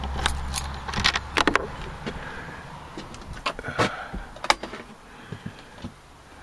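Keys jangle in several short metallic bursts during a shed clean-up, sounding close and fairly quiet with brief gaps between the rattles.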